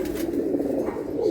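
A pigeon coos softly and repeatedly, close by, in a low murmuring rhythm with faint background noise around it.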